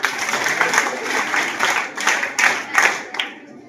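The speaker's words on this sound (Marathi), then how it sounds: "जोरदार टाळ्या यांच्यासाठी." High school students clap together after a first aid bandaging demonstration in a disaster management session, a dense burst of applause with several sharper swells before it tapers off near the end.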